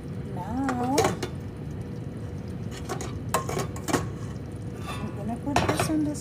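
A frying pan and pots clatter and clink while being shifted aside on a stovetop during Ugandan matooke katogo cooking, several sharp metallic knocks spread across the moment, with a voice talking in the background.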